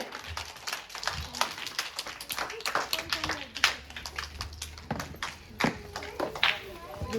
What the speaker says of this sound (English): Clap, children.